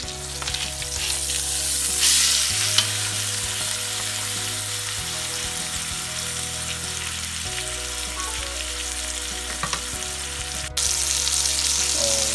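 Pork roast sears loudly in a hot pan right after being flipped, a steady, close broadband sizzle that holds throughout with low kitchen hum beneath and a slight surge near the end.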